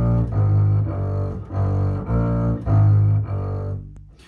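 Double bass playing a shifting exercise, a steady run of bowed notes that are low, full and sustained, close and moderately loud, with no talking.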